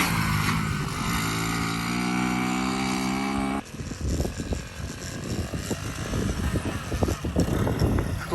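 A custom Honda Z50 minibike engine runs, a buzzing tonal idle that drops abruptly into a rougher, sputtering, uneven revving for the rest of the time.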